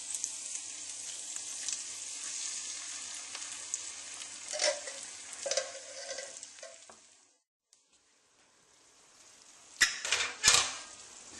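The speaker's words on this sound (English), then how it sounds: "I'm going to chuck the tomato in now," A whole tin of tomatoes goes into a pan of frying onions and coconut milk, giving a soft steady sizzle with occasional stirring scrapes, a brief lull, then a louder burst of hissing and clatter.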